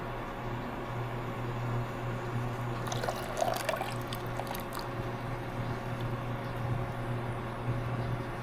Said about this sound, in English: Once the butter is melted, you want to add the cornstarch water mixture.